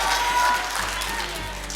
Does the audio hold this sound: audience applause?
yes